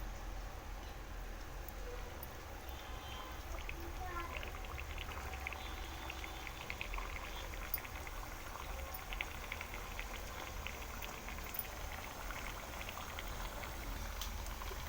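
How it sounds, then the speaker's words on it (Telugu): Homemade biscuits made with Balamrutam dropped one by one into hot oil, giving a steady, continuous sizzle and bubbling of frying that runs evenly throughout with no talk. "ఒక్కొక్కటిగా బిస్కెట్లు మనం తయారు చేసుకున్న బిస్కెట్లు అయితే ఒక్కొక్కటిగా వేసేద్దాం."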